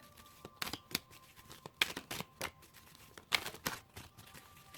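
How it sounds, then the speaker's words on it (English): Heart-shaped tarot cards are shuffled by hand in a quiet room, a series of soft, irregular riffling snaps and flutters up close, with no talking. "These are so hard to shuffle because they're like heart-shaped."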